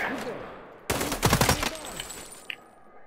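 A short burst of rapid gunfire in the Sniper Ghost Warrior 3 video game rings out loud and close for about a second, then a single faint crack follows amid a mountain setting, with a player's voice and breathing around it.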